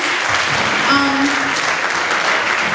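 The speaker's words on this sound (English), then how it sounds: "please give her a big round of applause" Audience at a women's empowerment event applauding for the MC, a loud, close, steady patter of clapping that holds level throughout.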